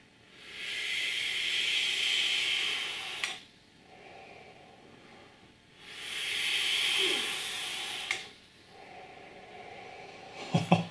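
An iJoy Limitless RDTA atomizer fired at 45 watts without a reduction ring gives two long, steady airy hisses of several seconds each as vapor is drawn, with quiet pauses between and a few soft clicks near the end.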